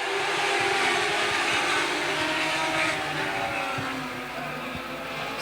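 Dwarf cars racing at Angola Motorsport Speedway roar loudly and steadily together at close range, a dense engine drone that eases slightly in the final second, with no voices over it.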